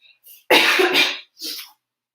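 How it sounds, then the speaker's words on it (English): A few short coughs close by, one strong burst followed by a smaller one, with silence between. "I need to cough real quick"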